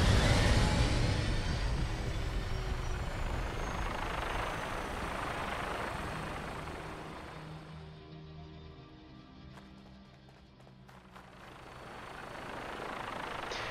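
A Pchela Vertibird from Fallout 4 flies with a broad, rushing rotor and engine roar that is loud at first, then thins and fades as it draws away, with the noise swelling slightly again near the end.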